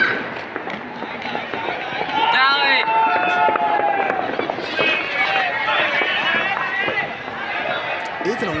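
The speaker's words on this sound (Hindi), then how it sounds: "सुन भी रहा हूँ कि हर तरफ हवाई फायरिंग हो रही है, आतिशबाजी हो रही है।" Pops and cracks of aerial gunfire and fireworks sound amid a loud, busy outdoor crowd at a Basant kite festival in Rawalpindi, with shouting and chatter running throughout.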